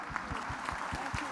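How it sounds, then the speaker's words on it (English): Audience clapping after a business panel discussion, a brief moderate patter of claps with a murmur of voices underneath. "Let's give them a round of applause"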